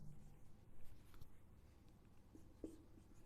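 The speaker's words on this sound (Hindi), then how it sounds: "यहाँ पे लिखते हैं ऐसे" A marker or chalk scratches faintly across a board in short, irregular strokes, close by and quiet, with no voice over it.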